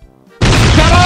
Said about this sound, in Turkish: Karpuz patlaması geliyor